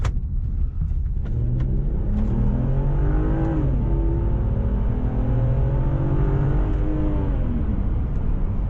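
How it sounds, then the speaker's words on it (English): A 2009 Volvo XC60 T6 engine revs hard and climbs steadily in pitch as it accelerates at full throttle out of the city, heard from inside the vehicle with no talking. "Now I am out of the city, so I can floor it for you a bit."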